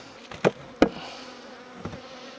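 Honeybees at a hive after a bee escape has cleared most of them, with a faint buzz under a few sharp knocks and clatters of hive parts being handled.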